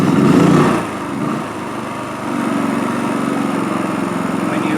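Wen 4500 portable generator engine catches with a loud burst, dips briefly, then settles into a steady, close, buzzing run that continues to the end.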